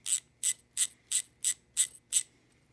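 A White Industries T11 bicycle hub's 48-point-engagement freewheel pawls click in quick, buzzy bursts, seven short ratcheting spins in steady rhythm, close and crisp with no talking.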